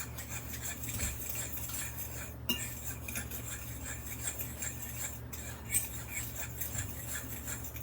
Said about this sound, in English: get the sugar incorporated with the flour and the baking powder and just get it a good mixture